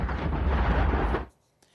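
Explosions at a burning vaping supplies warehouse in a Detroit suburb, a heavy rumbling blast roar lasting about a second before cutting off abruptly, with a faint pop afterward.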